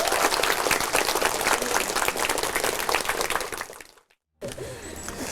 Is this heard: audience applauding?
yes